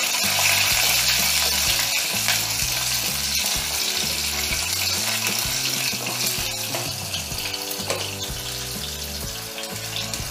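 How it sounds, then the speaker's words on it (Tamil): Garlic frying in a pan for a South Indian lunch, a steady loud sizzle with occasional stirring scrapes, continuous for several seconds, and no voices. "பூண்டு போட்டுடலாம்."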